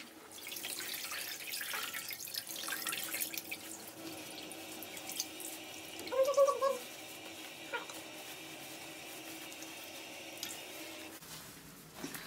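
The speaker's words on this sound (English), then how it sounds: "Now I'm going to wring it." A wet cloth is wrung out by hand after soaking in a stain-removal treatment, giving soft splashing and dripping water with a brief squelch midway, quiet and close with no talking.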